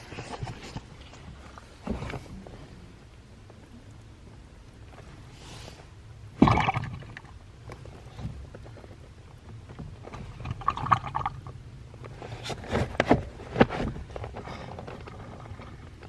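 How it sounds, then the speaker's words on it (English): Water sloshes and gurgles inside a flooded car's brake vacuum booster in intermittent surges, with occasional knocks and clunks, close up and without voices. "it has the vacuum booster is full of water still"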